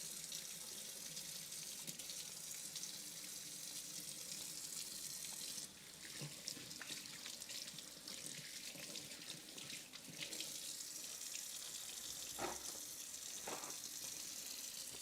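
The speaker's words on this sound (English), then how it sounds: "Let me wash my hands first" A kitchen faucet runs steadily while hands are washed under it, water splashing continuously and close at hand with small shifts in the spatter, no talking.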